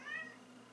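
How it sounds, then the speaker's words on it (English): A single short cat meow, clear and fairly close, rising then fading, with quiet background hum and no talking. "If you hear me meowing, it's my cat Spaghetti in the background."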